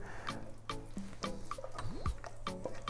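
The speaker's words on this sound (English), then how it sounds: "I'm just going to pour my beautiful pasta in." Cheesy three-ingredient mac and cheese pasta slides and plops from a pan onto a plate in a run of soft wet squelches and drips, close and quiet.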